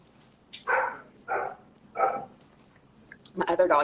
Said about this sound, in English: My other dog inside knows he's home and she's going crazy.